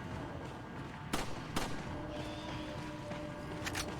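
Gunfire in Resident Evil 4 on Professional difficulty: two sharp shots ring out about half a second apart, then a quicker burst of shots near the end, all over a steady game ambience with no talk.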